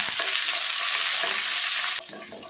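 Loud, dense sizzling of spices, lentils and curry leaves frying in hot oil in a pan, with a stirring scrape near the end as the sizzle drops slightly.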